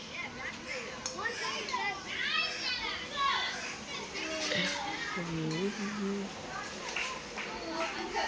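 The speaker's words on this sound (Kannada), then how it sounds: "ನೋಡಿ ಇಲ್ಲಿ ಮಕ್ಕಳು ಆಟ ಆಡ್ತಾ ಇದ್ದಾರೆ" Several children shouting, chattering and squealing as they play outdoors under heavily overcast skies before rain, voices overlapping at a moderate distance, lively and continuous.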